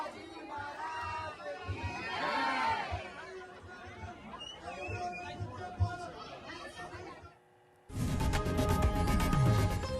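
Party workers crowd together during Raj Thackeray's BMC election campaign visit to party branches, a dense steady babble of many voices with occasional shouts, broken by a brief lull before a louder, fuller surge of crowd noise.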